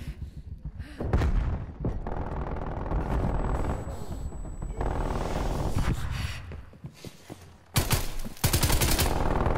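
Rapid automatic gunfire from a sentry turret and weapons in a Call of Duty: Black Ops Cold War Hardpoint match, dense loud volleys with thuds, continuing almost throughout and swelling again at the end.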